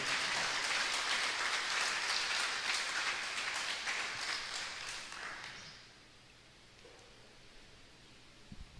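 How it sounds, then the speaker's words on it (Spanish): Church congregation applauding during a Spanish-language sermon, a dense patter of many hands that fades out after about five seconds, leaving quiet room tone. "Dele un aplauso al Señor, mi hermano."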